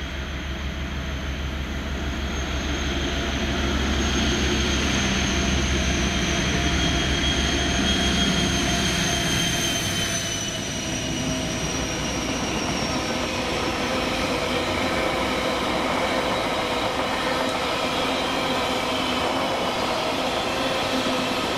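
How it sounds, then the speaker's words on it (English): Class 56 diesel locomotive 56096 leads an engineering rail drop train on a Scottish line in December, a steady loud engine drone and rumbling wagons with no talk. "56096 leading a rail drop train"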